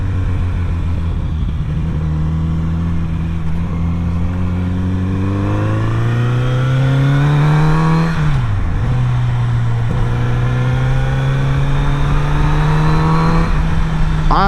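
A Kawasaki Z900RS retro motorcycle with an open intake idles loudly and steadily, then its engine revs up, drops sharply and settles back into a smooth, close, continuous rumble with another brief rise near the end.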